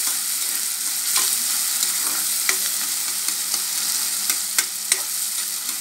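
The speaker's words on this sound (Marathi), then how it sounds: "एक चमचा जिरं, पाच सहा पानं कढीपत्त्याची चांगलं फ्राय करून घ्यायचं" Cumin seeds and curry leaves frying in hot oil, a dense continuous sizzle with light crackles and occasional stirring clicks, close and fairly loud, no talk.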